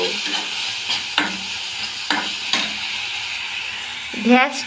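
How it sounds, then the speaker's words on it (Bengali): Spice paste and tomato sizzle and fry in a pan during egg curry cooking, with steady hissing broken by periodic scraping stirs and a brief clatter near the end. "মশলাটা রে ভালো কইরা একেবারে মিশাইয়া"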